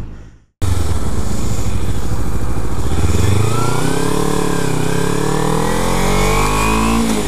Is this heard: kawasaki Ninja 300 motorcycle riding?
yes